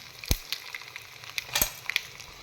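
Sharp crackles and pops of tempering spices hitting hot oil for kanji, a few loud bursts scattered over a quiet sizzle, close by with no talking.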